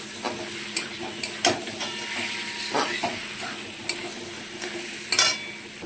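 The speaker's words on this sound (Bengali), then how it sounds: "এর মধ্যে আমি এবার মাছের তেলটা দিয়ে দিচ্ছি এবার ভালো করে এটা সাথে মিশিয়ে নেবো" Fried potatoes stirred in a pan with fish oil for katla fish chorchori, a steady sizzle broken by sharp spatula scrapes and knocks against the pan at an uneven pace, close and without talk.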